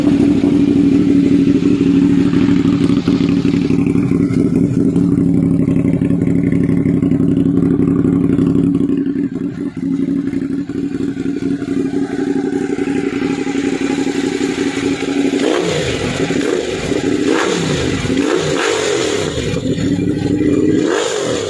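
A Ducati Monster 821 with slip-on exhaust idles loudly up close, then settles before a series of sharp throttle blips and revs in the second half.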